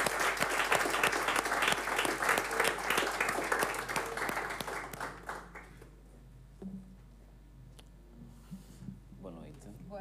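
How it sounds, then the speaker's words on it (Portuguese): An audience gives a big round of applause for Sandra Poulson at a show, loud dense clapping for about six seconds that fades away, followed by quiet room noise with faint voices. "uma grande salva de palmas para a Sandra Poulsen"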